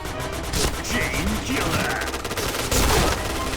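Gunfire in the shooter game Point Blank: rapid, fairly soft-sounding shots crackle in quick bursts close by, with a person talking faintly over them.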